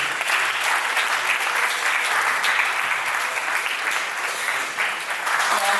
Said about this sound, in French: je vous prie d'accueillir sous un tonnerre d'applaudissements M. Franck Sacconi